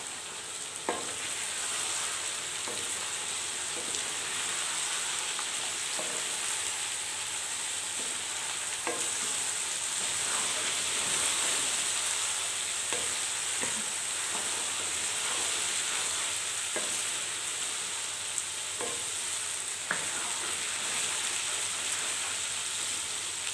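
Cauliflower and mixed vegetables fry in a pan on a kitchen stove, with a steady bright sizzle throughout and periodic scraping stirs from a spoon, close up and without talking.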